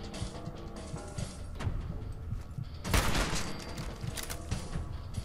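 Quiet bursts of gunfire in Fallout 4 inside Vault 75 as enemies are shot in the head, rapid rattling shots with a louder blast midway, all layered over a busy game soundscape.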